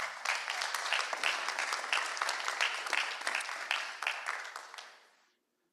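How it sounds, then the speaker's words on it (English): Audience applause at the Brookline Town Meeting, a full, even round of clapping from a large hall that holds steady and then fades out abruptly near the end. "Please join, yes, applause."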